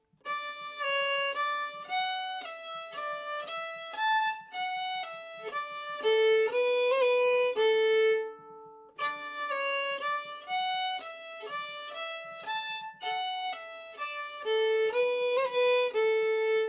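A musician plays an Eastern Kentucky tune on an old-time fiddle. A full solo phrase of bowed notes runs in a lively, steady rhythm with a few held tones, close and clear, with no voice.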